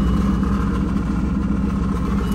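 A Mercedes-Benz SL55 AMG engine running with an odd noise under the hood, a close, steady, loud mechanical drone with a rough, busy texture and no speech.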